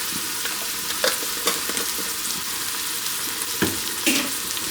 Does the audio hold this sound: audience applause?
no